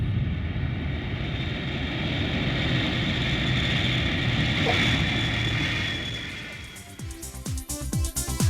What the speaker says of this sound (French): Enfin, l'avion atterrit.